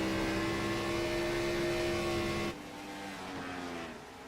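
A Gen 4 stock car's engine roars loud and steady in a racing video game at Kansas, its harmonic drone holding strong before dropping abruptly to a quieter, lower rumble as the car moves off or backs off the throttle.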